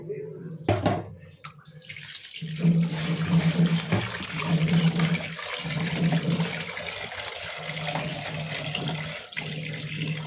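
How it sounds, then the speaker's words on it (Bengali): Tap water runs steadily over goat meat being washed at a sink, a continuous splashing stream with brief interruptions near the start, with some background noise. "চলো একটু ভালো করে ওয়াশ করে নিই"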